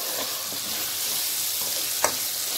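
Ridge gourd (beerakaya) frying in a pan, a steady close sizzle with soft stirring sounds and one sharp clack near the end, no speech.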